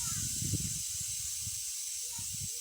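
A pressure cooker vents steam in a steady, bright hiss that runs without pause, with low muffled rumbling and knocks beneath it, close by.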